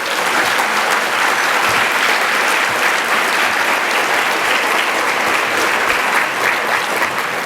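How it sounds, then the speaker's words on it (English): A conference lunch audience gives graduating students a round of applause: dense, loud, sustained clapping from a large crowd that holds steady throughout, with no talking over it. "Let's give them a round of applause."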